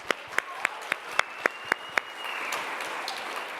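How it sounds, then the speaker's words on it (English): A crowd at a women-in-tech festival applauds the women who came on stage, a few sharp, evenly spaced claps up close over a softer spread of distant clapping, which swells slightly before fading. "can we give another round of applause to all the ladies that came on this stage"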